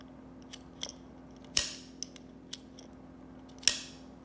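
A Blue Sea Systems 7189 circuit breaker gives several small, sharp mechanical clicks spaced irregularly over a few seconds, close and fairly quiet against a low steady hum.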